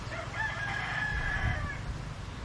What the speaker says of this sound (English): And of course, you got to have the roosters in the background.